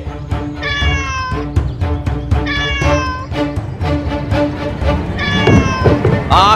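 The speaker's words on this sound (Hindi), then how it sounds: "तुम में से किसी ने भी उस काली बिल्ली को नहीं देखा" A black cat meows repeatedly in drawn-out, wavering cries, close and loud, with a dramatic music score and background noise running underneath.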